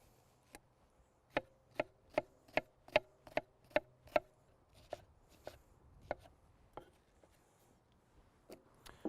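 An onion is chopped on a cutting board with a quick run of crisp, evenly spaced knife knocks, then slower, scattered cuts, close and clear in a quiet room.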